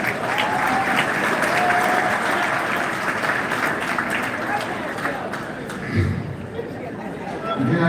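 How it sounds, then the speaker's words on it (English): An audience applauds for a group of honoured women at a celebration in an athletic department, sustained dense clapping with some cheering and crowd chatter that thins out toward the end. "Please give a round of applause for these incredible ladies."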